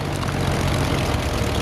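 Piper propeller engine being throttled down in a flight simulator, a steady, loud, dense propeller drone with low rumble, continuous throughout.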